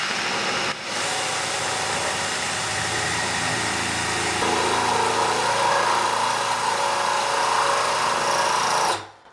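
A cordless drill fitted with a hole cutter bores into a wall, starting slowly, then running as a loud, steady motor whine with rising grind for several seconds before stopping abruptly.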